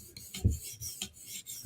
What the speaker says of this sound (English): So we're doing some forward strokes,